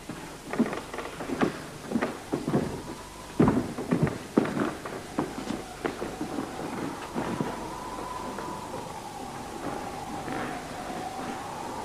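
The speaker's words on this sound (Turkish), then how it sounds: "Fırtına yaklaşıyor." Thunderstorm with rolling thunder cracks and steady rain, a series of loud rumbling bursts over a constant wash of rainfall, fairly close.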